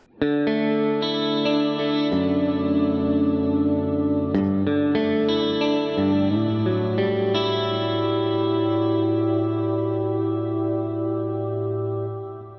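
Sustained electric guitar chords ring out through a Headrush plate reverb, shimmering with chorus-like depth and long, smooth decay, no voices.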